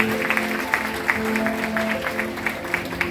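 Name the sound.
audience applause welcoming a guest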